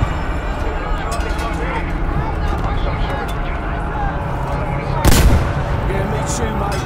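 Gunfire in the Battlefield V video game, dense and continuous rattling shots throughout, with a sharp louder burst near the end, amid busy in-game battle noise.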